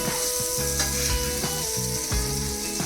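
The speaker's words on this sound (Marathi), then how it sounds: "बांगडे दोन्ही साईडने चांगले तेलामध्ये फ्राय करून घेऊया" Bangda mackerel fry in hot oil with a dense, loud, continuous sizzle and crackle, close up and with no talking.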